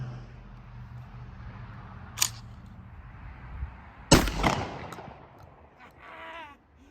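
A Mossberg 940 Pro tactical shotgun fires twice, a sharp report followed a couple of seconds later by a louder blast that rings out briefly, heard outdoors from close by.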